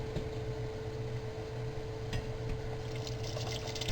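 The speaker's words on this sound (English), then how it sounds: "Let me pour some of this water back in here" Water pours steadily back into a pot of cooking beans, a continuous splashing trickle with no voices.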